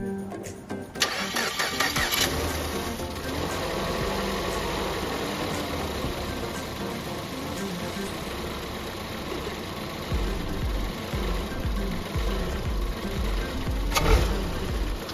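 A 2013 Ford Escape engine cranks and catches, then settles into a steady, even idle that runs on at moderate loudness, with no talk over it.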